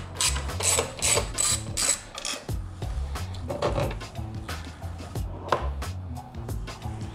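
A ratchet loosens the case bolts on a Honda Grom motorcycle during an oil change, with repeated bursts of close, rapid clicking and pawl ratcheting spread across the clip.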